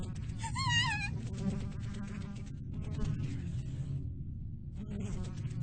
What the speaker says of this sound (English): The buzzing wings sounded right up against my ears as if they were attacking me.